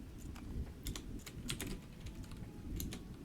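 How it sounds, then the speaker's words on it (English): Fast, light clicking of a computer keyboard being typed on, a quiet irregular patter of keystrokes over a low background rumble. "We are clicky clacking today."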